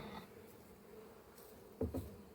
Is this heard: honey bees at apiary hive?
yes